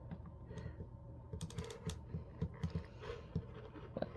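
Fabric being cut with a worn blade while making a flowy bottom for a T-shirt, a quiet series of uneven crunching snips and clicks, close and irregular, with no talking.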